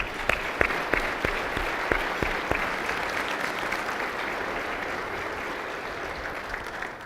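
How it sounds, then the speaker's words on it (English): An audience at a city's annual state of the city address applauds steadily, the clapping dense and sustained from start to finish. A few sharper, louder claps stand out in the opening seconds. "Let's give Adriana and her team a round of applause"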